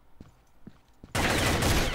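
Sustained automatic gunfire burst in the video game Combat Arms, loud and dense, erupting suddenly after a few faint footstep-like thuds and continuing without pause to the end.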